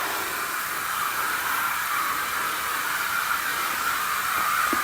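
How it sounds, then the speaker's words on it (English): Foaming bathroom cleaner sprayed across a shower and tub gives one steady, unbroken aerosol hiss lasting several seconds, close and fairly loud, with no talking. "Just gonna give my whole shower a good spray of this."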